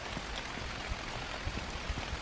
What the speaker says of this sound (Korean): 비가 많이 오네